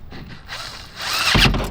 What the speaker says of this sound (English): But you want to try to drill it out?